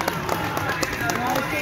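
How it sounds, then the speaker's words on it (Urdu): Hands clapping at a border customs building inauguration near the Gandak barrage in Valmikinagar, a fairly steady patter of claps from a small group mixed with crowd noise and voices. "تالی تالی تالی"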